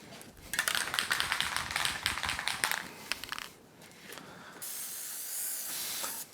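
Foam filter oil is sprayed onto the foam air filter of a Yamaha YXZ1000R in a few bursts of hiss, with light handling clatter between them and a steadier spray near the end.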